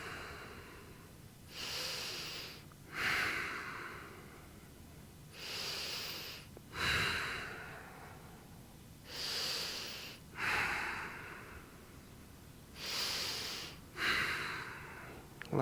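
Slow, deep breaths during a yoga plank hold, each long airy inhale and exhale rising and fading in a steady cycle roughly every three to four seconds, close and alone.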